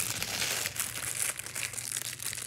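A plastic package is torn and pulled open by hand without scissors, giving close, loud crinkling and crackling bursts in an uneven rhythm.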